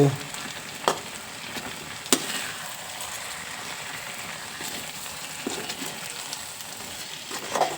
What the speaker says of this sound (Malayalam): നന്നായി ഇളക്കി കഷ്ണമൊന്നും ഉടയാതെ